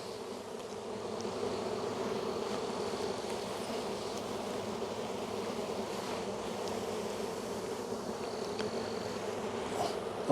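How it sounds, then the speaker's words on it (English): Honeybees hum around an open hive during a spring inspection, a dense steady drone that fills the air without pause, with no voices. "There's a few bees there."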